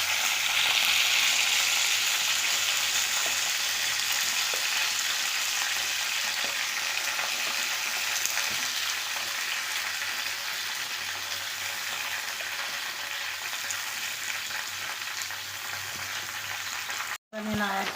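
Green chillies and bottle gourd pieces frying in oil, a steady loud close sizzle throughout with faint stirring clinks and a sharp knock near the end.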